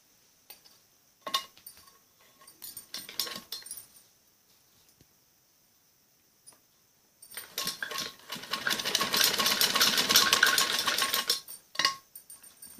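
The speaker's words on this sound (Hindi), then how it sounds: "फिर बिल्कुल ऐसे किनारे पे सिलाई लगानी" A domestic sewing machine stitches along the edge of a kameez sleeve in a loud buzzing run of about five seconds, preceded by scattered clicks and fabric handling.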